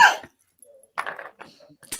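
A person coughs: a sharp burst at the start followed by a few short, rough throat sounds, close to the microphone and with no words spoken.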